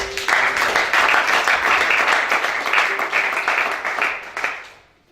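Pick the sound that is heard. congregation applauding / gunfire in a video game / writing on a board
congregation applauding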